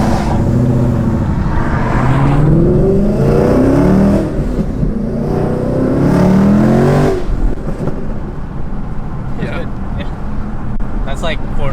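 Supercharged Ford Mustang GT S550 with a Magnuson supercharger revving at quarter throttle, the engine rising and falling in pitch several times, loud and close, then settling to an idle.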